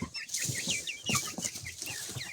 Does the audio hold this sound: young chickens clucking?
yes